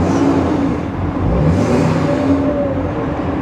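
A 2011 Chevy 3500 truck with an aftermarket exhaust revs its engine, a throaty rumble that swells and eases once or twice, close and loud, with no talking.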